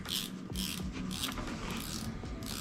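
A fishing reel's spool cap being screwed back down gives a continuous run of close, small mechanical ratchet clicks with faint rubbing, and no one speaks.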